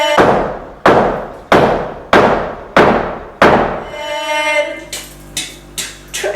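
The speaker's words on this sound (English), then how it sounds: "I really always want to do like the hammering noise." Hammering construction sound effect: six heavy, evenly spaced loud strikes with ringing decay, followed by lighter clinks and a resonant metallic hum.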